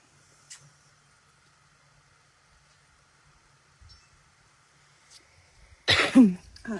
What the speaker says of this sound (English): Just a big cough.